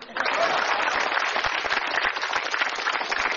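Steady crowd applause at a stand-up comedy show, dense and continuous clapping from a sizable audience that holds at an even level throughout.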